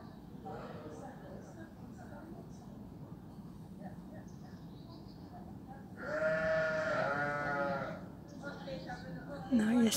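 Sheep bleat in a loud, wavering call lasting a couple of seconds, rising above steady background chatter and outdoor noise at Schönbrunn in Vienna.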